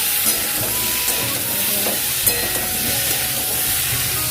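Potatoes fry in a pan with salt and turmeric, giving a steady broad sizzle with small crackles throughout, close and fairly loud with no talk.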